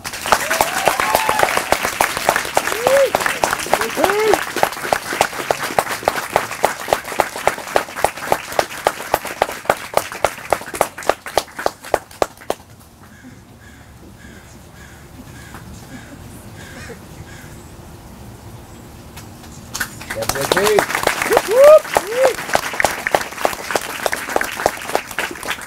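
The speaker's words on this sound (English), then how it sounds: "Ladies and gentlemen, a big round of applause for Jonathan Plow." Audience applause at the 2015 Pacific Academy graduation ceremony: dense, loud clapping for about twelve seconds, a quiet lull, then a second burst of clapping starting around twenty seconds and running to the end.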